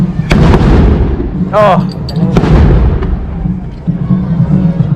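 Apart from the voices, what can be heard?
explosions at a parade in a Mexican town plaza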